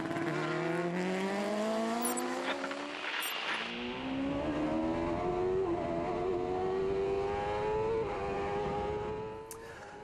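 A racing motorcycle pulls away from an Isle of Man TT pit stop, its engine rising through revs and gear changes, loud and close, with no talk.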